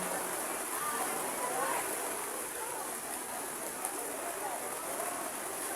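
Heavy rain falls during an outdoor Isra Mi'raj religious gathering in Cikbar, Karawang, a steady broadband hiss of drops on surfaces that continues without pause, with faint indistinct voices underneath.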